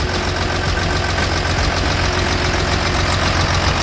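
A Volvo FL tanker truck's six-cylinder diesel engine idles steadily at close range, a continuous low rumble with a dense mechanical clatter and no pauses.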